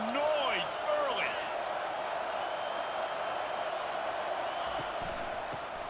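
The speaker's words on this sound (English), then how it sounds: "This crowd bringing the energy and noise early." Steady roar of a stadium crowd in the College Football 25 video game, a continuous broadband wash with a few rising whistles and whoops near the start, fairly loud and sustained throughout.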